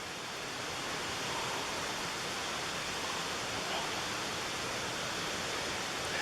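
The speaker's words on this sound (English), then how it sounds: "I think this is actually the main river." Steady broadband rush of a river flowing past an eroded canal at Watsons Mill, a continuous even wash of water heard alone at moderate level throughout.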